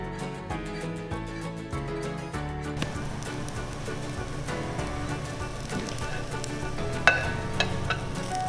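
An egg frying in a pan for fried rice gives a steady sizzle and crackle under a continuous bed of music, with a sharp clink near the end.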